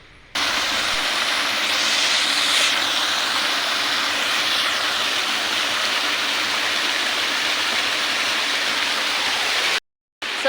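Water gushes from a mountain water-supply outlet in a loud, steady, unbroken roar that cuts out briefly just before the end.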